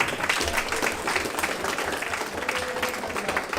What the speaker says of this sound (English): Let's give everybody a great round of applause.